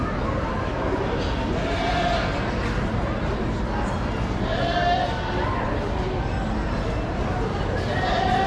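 A goat bleats a few times at a 4-H livestock show in an arena, faint bleats mixed into a constant wash of crowd chatter and background voices.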